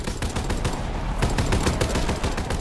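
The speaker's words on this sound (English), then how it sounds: "Oh, Zeppelin's shooting." Rapid automatic gunfire in Call of Duty WW2 Zombies, attributed to the Zeppelin boss, rattles on loud and dense for a couple of seconds with no break.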